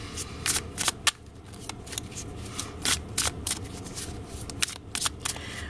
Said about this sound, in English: next we're going to shuffle the Morgan Greer